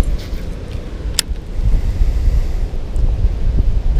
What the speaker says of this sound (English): That wind is cranking.